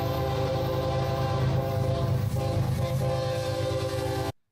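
A Southern Railway locomotive sounds a sustained, loud horn salute, the chord droning steadily at close range for about four seconds before cutting off abruptly.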